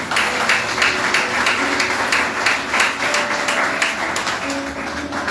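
Church congregation applauding at a Spanish-language Sunday school service, a steady dense wash of clapping with rhythmic accents running throughout, fairly loud and continuous.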